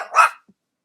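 A cartoon dog in an animated retelling of Disney's Mulan gives a single short, sharp bark, clear and alone, which cuts off quickly into silence.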